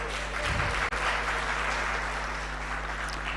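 An audience at a public leaders alumni gathering applauds the first cohort from Liberia, a steady wash of clapping over a low hum, briefly cut near the start, with no voices on top.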